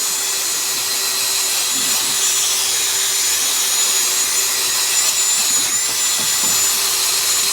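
A power tool scours rust off the hub flange of a Mercedes-Benz S550 during front brake rotor replacement, a steady, loud abrasive whir that holds through the whole stretch with no break.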